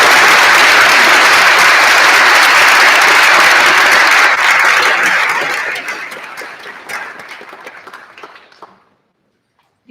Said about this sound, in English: can we have a round of applause for all of the finalists?